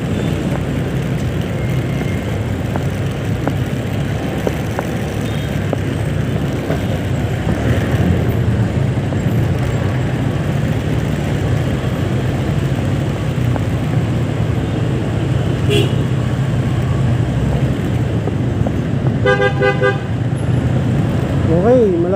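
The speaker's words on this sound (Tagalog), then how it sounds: "Okay, traffic lang mga kalibin," Heavy road traffic in Metro Manila near Muñoz and Project 7, heard from a motorcycle, with a constant low rumble of engines and a sharp car horn toot near the end, with occasional voices in the mix.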